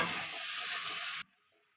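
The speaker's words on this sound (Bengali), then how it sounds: "এটা আর একটু ভাজা ভাজা করে নেব।" Loud, steady sizzle of capsicum and shrimp frying in a hot pan, broadband hiss that cuts off abruptly near the end, leaving near silence.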